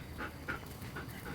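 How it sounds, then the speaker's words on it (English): A dog whimpers and pants close by, with soft high whines and short breathy pulses repeating in a quiet room and nobody speaking. "So this is my other dog."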